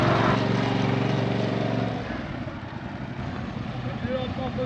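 A motorcycle engine idles and runs at low speed in first gear during slow riding practice, a steady rumbling drone that eases slightly after the first two seconds, fairly close and continuous.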